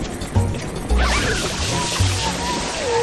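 Mario falls and splashes into water in Super Mario Sunshine, producing game thumps and a bright watery crash around one second, layered with music and sound effects.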